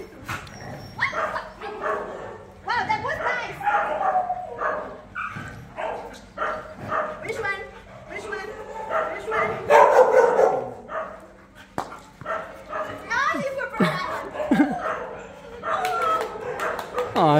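A playful Labrador barks and yips in excited bursts while tugging for a ball, the sound close and lively, with people talking and urging the dog throughout.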